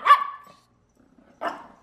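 A puppy barks twice, a sharp near yap followed by a second shorter bark after a pause of over a second, with quiet between.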